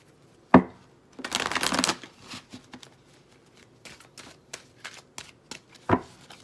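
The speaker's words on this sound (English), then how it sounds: "Let's shuffle our chakra cards." Cards are shuffled nearby in a papery riffle, followed by softer intermittent shuffling and taps, with a sharp tap at the start and another near the end.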